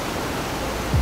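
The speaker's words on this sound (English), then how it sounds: "Waterfalls." Waterfalls at hidden Maya temple sites in Mexico produce a steady, broad rushing roar, loud and continuous with no pauses.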